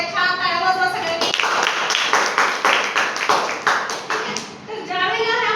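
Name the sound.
class clapping hands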